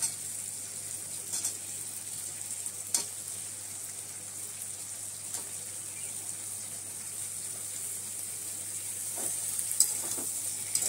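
Pointed gourd and prawn heads fry together in a pan with a steady, close sizzle that runs throughout, broken by a few brief stirring scrapes.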